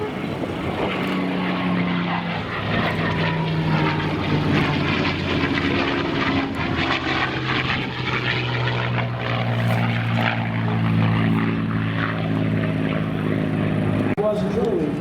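A P-51 Mustang propeller fighter performs at an airshow at Dover Air Force Base, its steady engine drone loud and continuous throughout, with a voice talking over it.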